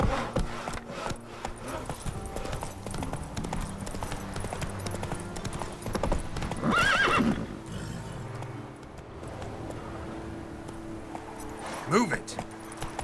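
Horse galloping in The Witcher 3 video game, rhythmic clip-clop hoofbeats throughout with a whinny partway through and another near the end, amid game ambience and brief character voices.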